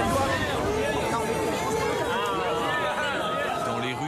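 A crowd in central Rouen boos President Emmanuel Macron as he walks through the city centre, a steady dense mass of jeering and shouting voices with whistles, loud and continuous throughout.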